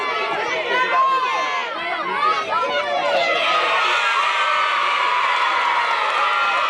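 A small-venue wrestling crowd in Mack's Creek, Missouri cheers for the Iceman, with loud shouts and whoops swelling into a sustained roar of many voices, chatter mixed through it.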